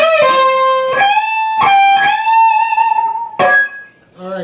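Electric guitar plays the last-measure lick of a solo around the 17th position, a few sustained bent notes with vibrato and slides, clean and close, followed by brief talk.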